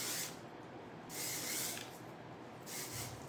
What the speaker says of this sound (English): Move It Dry Texture Spray